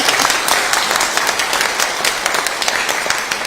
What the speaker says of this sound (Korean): 원래 이런 거 하면 박수 한번 쳐주는 거예요